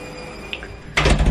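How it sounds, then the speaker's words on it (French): A door being shut at home while a washing machine runs in the background: a quiet stretch with a couple of faint clicks, then one loud, close thump of the door closing that rings on briefly. "Je vais fermer la porte parce que sinon on va pas s'entendre avec la lessive qui est en train de tourner."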